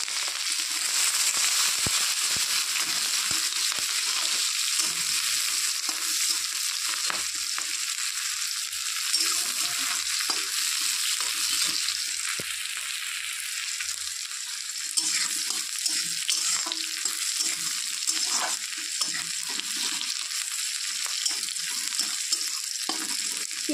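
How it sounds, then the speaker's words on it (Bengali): Chopped onion, a green chili and nigella seeds fry in hot oil, a constant close sizzle with scattered crackles and light stirring throughout. "পেঁয়াজ কাঁচা লঙ্কা ভাজা ভাজা হয়ে গেছে।"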